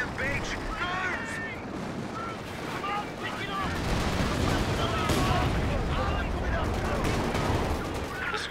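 Company of Heroes 2 combat on a beach: dense bursts of machine-gun fire and rifle shots crackle continuously under heavier thumps, growing louder midway. Voices talk throughout.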